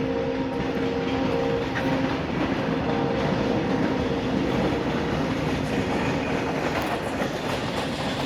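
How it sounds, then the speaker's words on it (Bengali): A goods train rolls past, heard from a nearby rooftop, with a loud, steady rumble and rhythmic wheel clatter that continues without letup throughout, and no voices. "টাওয়ার ভ্যান না, ওটা হচ্ছে ওই মাল ট্রেন যাচ্ছে"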